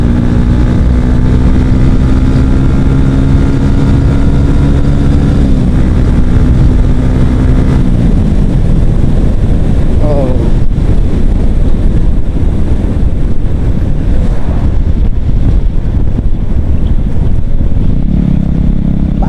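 A modified Yamaha R15 v2 motorcycle engine runs loud and close, its pitch climbing and falling as it revs, with steady wind buffeting throughout.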